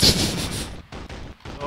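Turret gunfire in the video game Sniper Ghost Warrior 2: a rapid burst of loud shots, then several more sharp bangs spaced apart, with a voice under it.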